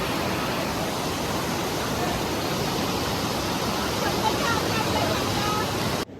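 Palshi waterfall in Tamhini Ghat roars as a steady, broadband rush of falling water that continues unbroken, with faint crowd murmur in the background.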